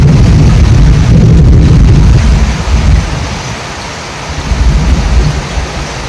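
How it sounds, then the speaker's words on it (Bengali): Heavy rain pouring down with a deep rolling rumble of thunder in the first seconds, then a dense steady roar of rainfall, loud and close, without any speech. "সকাল থেকে এত সমান বৃষ্টি আসে"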